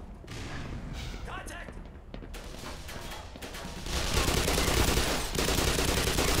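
Enemy soldiers firing at close range in the shooter game Black Mesa, loud continuous bursts of gunfire that grow denser and louder partway through, with someone talking over the start.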